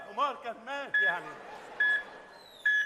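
A mobile phone ringtone goes off on a theatre stage, a melodic warbling figure followed by repeated sharp electronic beeps at regular intervals, fairly faint, with no speech over it.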